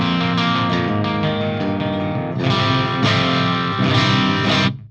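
An electric guitar plays a run of clean, bright notes and then strummed chords through an ENGL Savage amp, loud and sustained, with no talking.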